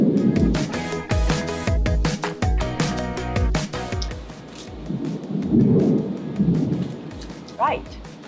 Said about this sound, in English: Before it rains, I can hear the thunder.